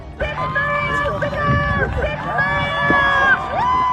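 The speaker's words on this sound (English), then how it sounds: "so many from the community cheering her on" Community crowd on a lakeshore cheering on a long-distance swimmer, shouts and whoops rising and falling together, mixed with a reporter narrating over the scene and background chatter.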